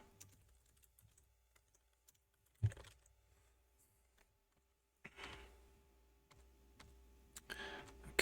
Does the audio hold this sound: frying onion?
no